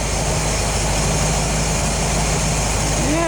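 A 1972 Corvette Stingray engine idles loudly and steadily at close range, a constant low rumble with a continuous hum, no change in pace throughout.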